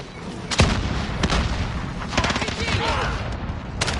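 A frag grenade explosion and gunfire in Call of Duty Modern Warfare: scattered sharp shots and booming bursts over a continuous battle din.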